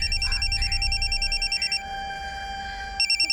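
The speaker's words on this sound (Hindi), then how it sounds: "फोन की आवाज तो अंदर से आ रही है।" A mobile phone rings inside a room in a repeating electronic ringtone pattern, bursts of tones pausing briefly and then resuming, moderately loud and alone without talk.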